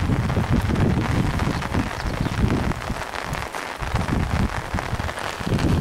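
Heavy downpour drums steadily on surfaces at an outdoor fishing competition site in Rolampont, a dense, loud, unbroken hiss of rain with some wind buffeting the microphone.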